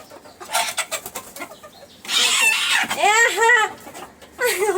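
Chickens scuffle with a loud, close burst of agitated clucking and squawks, the calls rising into harsh, drawn-out cries as the birds fight.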